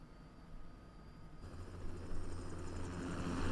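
Helicopter in the video game Metal Gear Rising Revengeance taking off, a low engine hum that swells into a louder, rising rotor and turbine roar over a few seconds.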